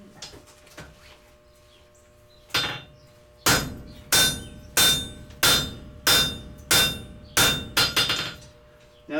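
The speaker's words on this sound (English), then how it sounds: "It being 1095, you're going to have to wail on it quite a bit to get it to move" Steady hammer blows ring out on 1095 steel during drop forging, eight or so evenly spaced, loud metallic strikes with bright ringing decay, following some quieter taps and shuffling at the start.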